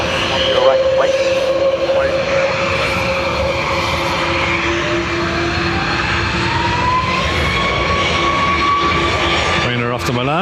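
A Ryanair airliner takes off from runway 10 right at Dublin Airport, its engine roar steady and loud throughout with a rising whine, passing close and fading slightly near the end.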